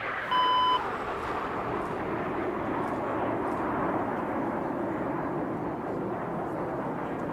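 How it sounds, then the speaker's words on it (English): Red Arrows jets in a virtual flight display roar through a continuous broad engine rush, with a short beep near the start and the jet noise holding steady throughout. "Both synchro pilots put their jet on a knife edge and pull to 5G as they complete a manoeuvre we call slingshot."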